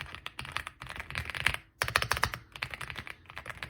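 Someone types quickly on a wireless hot-swappable mechanical keyboard, producing dense, close, creamy keystroke clicks in uneven bursts with a brief pause partway through.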